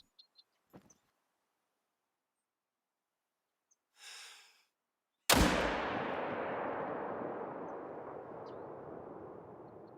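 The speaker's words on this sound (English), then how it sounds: "the recoil was something awful on that shot" A rifle shot at a red deer stag in theHunter: Call of the Wild cracks out loud and sharp, then rolls away in a long, fading echo, after a few faint clicks and a soft breathy rustle.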